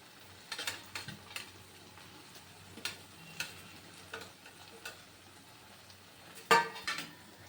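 Gongura chutney being mixed with raw onion pieces: a spoon stirs and scrapes against a metal pot in a series of soft, irregular clinks and a louder knock near the end, close by and unvoiced.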